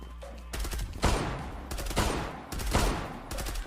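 Desert Eagle pistol fire in the online shooter Zula, loud booming shots in quick succession with ringing decay, about five close reports spread over a few seconds.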